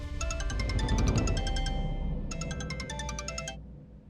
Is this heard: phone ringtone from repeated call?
yes